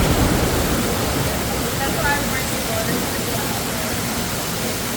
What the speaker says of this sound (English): Oh, splash.